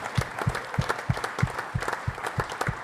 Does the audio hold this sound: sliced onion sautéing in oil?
no